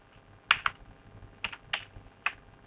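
Keys are tapped on a computer keyboard while entering a Zoom meeting search: about six crisp, close keystrokes in short, uneven bursts against a quiet background.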